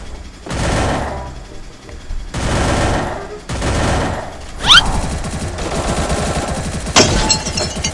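Bursts of gunfire in the Free Fire mobile battle game, several loud rapid volleys spaced a second or so apart, followed by sustained shooting with sharp metallic hits.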